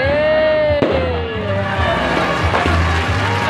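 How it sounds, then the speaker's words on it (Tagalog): Fireworks burst at a New Year celebration, with a sharp nearby bang and further booms and crackles over a steady crowd murmur, while a whistling rocket trails across the scene and people talk nearby. "Oh my god guys, ang ganda ng fireworks doon."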